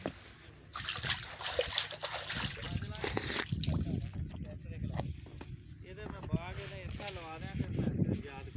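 Water from a tube well on farmland near Fort Abbas gushes and trickles steadily throughout, with splashing and sloshing close by while people talk over it.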